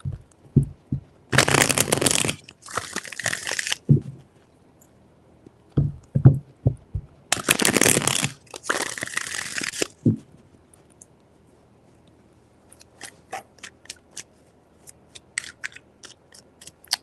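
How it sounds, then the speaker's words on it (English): A tarot deck is shuffled by hand in two longer bursts of crisp riffling, separated by scattered taps and card flicks, with faint clicks trailing afterward. "Three shuffles."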